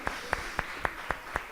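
A church congregation claps in praise, six evenly spaced sharp claps in a steady rhythm, faint and distant over a soft background hum.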